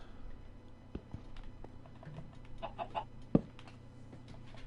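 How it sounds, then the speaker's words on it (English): A chicken in the Minecraft video game gives a few soft clucks over quiet game ambience, with light tapping footsteps and one sharp click partway through. "Might end up with a chicken in here"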